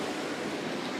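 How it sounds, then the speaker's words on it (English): Heavy rain pours down outdoors as a dense, steady, loud hiss with no breaks and no voices. "It's pouring outside."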